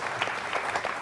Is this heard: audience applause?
yes